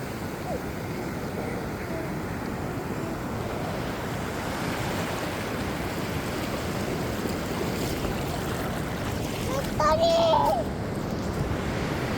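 Sea waves wash continuously onto Achara-Wayangani beach in a broad, steady roar, with wind noise on the microphone and a brief louder surge near the end.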